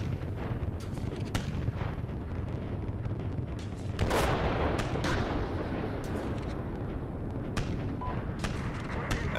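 Tank-battle artillery in Steel Beasts Pro: a steady rumbling barrage with sharp cracks and heavier booms scattered through, one big blast near the middle, and faint talk underneath.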